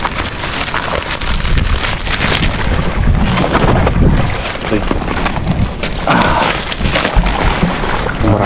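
Wind rushes and buffets over open water on a crab-hunting outing, a steady broadband roar with gusts and splashy texture, with voices talking over it.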